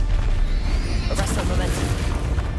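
Explosive Bombarda and Confringo spells in Hogwarts Legacy go off with a deep, rumbling boom, then a sharp crackling burst about midway through, loud and dense throughout.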